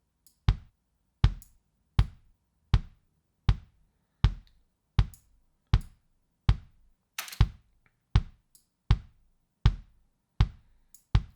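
A kick drum from the Groove Agent 5 acoustic studio kit thumps alone in a steady, even pulse, about fifteen short, punchy hits with tight decays and no other instruments.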